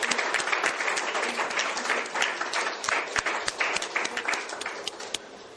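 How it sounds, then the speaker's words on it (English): Audience applause at a Mission 10X valedictory function, loud continuous clapping from a large crowd that fades slightly near the end, with no talk. "Big round of applause, please."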